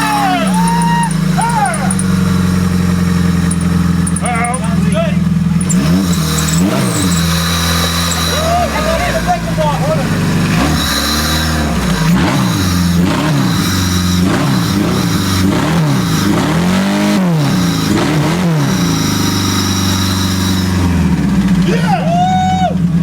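A car engine on a test stand at an automotive school in Whitestone, New York, idles and revs repeatedly, its pitch sweeping up and down in rising and falling bursts, loud and close, while people talk over it.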